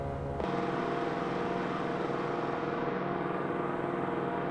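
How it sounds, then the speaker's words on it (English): Engines of a B-17 bomber in a flight simulator game make a loud, steady droning roar that begins abruptly and holds constant throughout. "I think the engine sounds have improved from release one."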